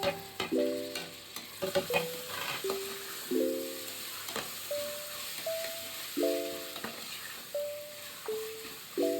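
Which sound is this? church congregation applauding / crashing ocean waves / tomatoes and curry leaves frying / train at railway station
tomatoes and curry leaves frying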